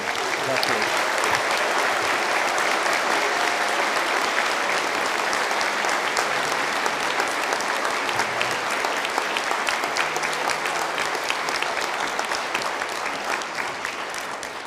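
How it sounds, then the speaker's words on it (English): Sustained, dense audience applause fills a university winter conferring ceremony for graduates, loud and steady for about fifteen seconds and easing slightly at the end. "A round of applause for graduates."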